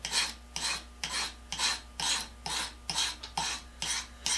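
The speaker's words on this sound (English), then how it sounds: "Took out my old trusty rusty jackknife and ran the blade across." An old, rusty jackknife blade drawn repeatedly across a sharpening stone, about nine even, close rasping strokes in a steady rhythm with short pauses between them.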